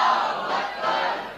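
A large crowd roars a chant of Nara-e-Takbir Allahu Akbar in unison, loud, dense and sustained as a single surging shout.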